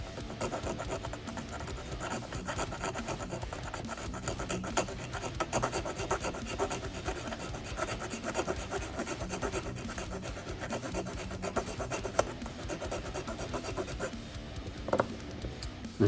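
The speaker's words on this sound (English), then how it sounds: "Now file down the post." A file rasps back and forth on a plastic post of a Hot Wheels Chevy Silverado model, a close, steady scraping with quick repeated strokes and no voices.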